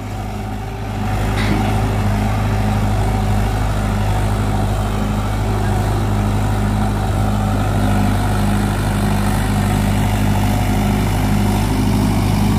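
A Mahindra 575 XP Plus 47 hp diesel tractor engine runs steadily and loudly up close, with a deep, constant low rumble and slight throttle rise near the start.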